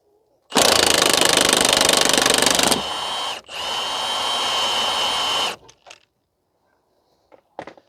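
A powerful impact wrench hammers loudly on the stabilizer link nut of a Honda Odyssey in two sustained bursts with a brief pause between, then a few faint clinks of tools.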